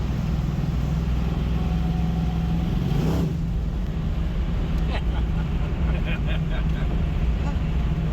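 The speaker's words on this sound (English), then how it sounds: "This Nova drives so nice." A Chevrolet Nova car drives on the road near Mooresville, North Carolina, its engine holding a steady low drone throughout with road noise, while a person speaks over it.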